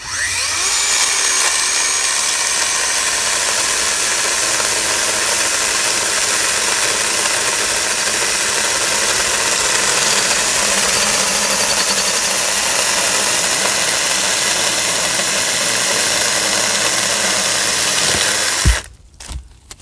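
A Toro 60V cordless saw cuts through a mesquite branch with a loud, continuous high-pitched whine that holds steady for about eighteen seconds, then cuts off abruptly and is followed by a few brief knocks.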